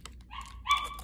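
A dog barks in a room, two or three short sharp yelping barks that rise toward the end of the moment, fairly close and clear against quiet background.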